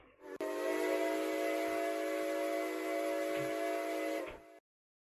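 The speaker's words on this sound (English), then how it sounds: "we're gonna be trying to pull the whistles together and sound this" A steam train whistle in the Roblox game Ro-Scale blows one long, steady, loud chord-like tone for about four seconds, then cuts off abruptly into silence, with no talking over it.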